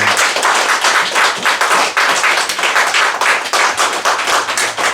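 Congregation applauding in a church during a Pentecost service, sustained loud rhythmic clapping from many hands filling the room, steady and close with no speech.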